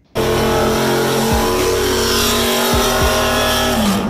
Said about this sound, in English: I'm going to make as much noise as possible and peel out of here